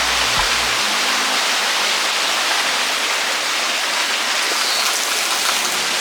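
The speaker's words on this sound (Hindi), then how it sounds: "Obviously we will just dive into this waterfall." Waterfall at Paradise Valley near Kasauli, a dense, constant roar of falling water filling the whole clip at steady loudness, close and unbroken, with a brief low thump at the start and no voices.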